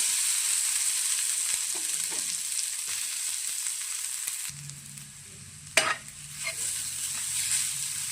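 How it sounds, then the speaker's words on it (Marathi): Grated fresh coconut fries in a pan over a low flame with a soft, steady hiss that fades partway through, followed by a low hum and one sharp clank of a utensil. "त्यानंतर खोबरे खिसलेले टाकून फ्राय करून घेऊया"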